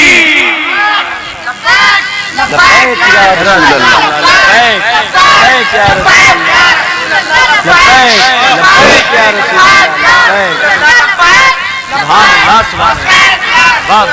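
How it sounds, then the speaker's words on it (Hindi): A large crowd at an Islamic religious gathering roars the Takbir chant back in unison after the call, with loud, overlapping shouted voices rising and falling in repeated waves. "नारे तकबीर"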